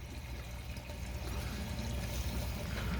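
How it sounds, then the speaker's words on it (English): Water flowing into the fill tube of a DIY 55-gallon drum wicking bed, a steady close trickling pour with low rumbling, continuous and alone with no voices. "You can now see the water coming into the tube."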